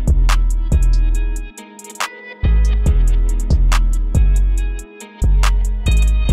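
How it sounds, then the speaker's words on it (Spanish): A simple looped beat made in FL Studio, with punchy kick and snare hits and a repeating melodic line, loud and steady, with brief drops between phrases. "Entonces, pues bueno, el beat suena así."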